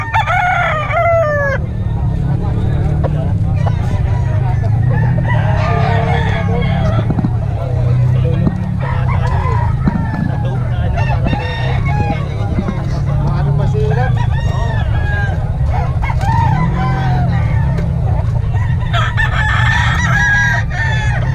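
Several roosters crow and chickens cluck continuously at close range among a crowd of fowl, over a steady low background hum with people talking.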